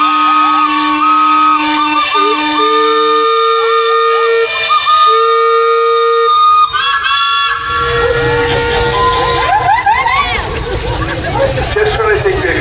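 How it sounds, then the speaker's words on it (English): Steam engine whistles blow at a parade, several long sustained tones sounding together and overlapping in shifting pitches, followed by hissing steam and a burst of more whistle blasts, with a little talk. "you might want to sound the whistles, gentlemen"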